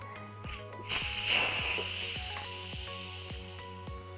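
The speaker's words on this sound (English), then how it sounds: "So now that our cook time is over, we're gonna open up the valve." A loud, steady hiss of steam bursting from an Instant Pot pressure cooker valve after cooking spaghetti, starting abruptly and rushing continuously, with a soft rhythmic tapping underneath.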